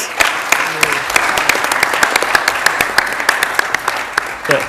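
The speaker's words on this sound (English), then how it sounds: "I would like for y'all to give him a round of applause." A round of applause at a youth government event, a crowd clapping loudly and steadily with crisp individual claps and a few voices underneath.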